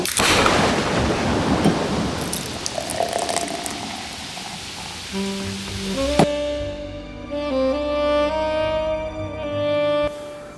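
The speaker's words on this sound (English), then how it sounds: "It's raining pretty good out" Heavy rain with thunder pours loudly in a thick, roaring wash for about five seconds, then gives way to sustained tonal music; no one speaks.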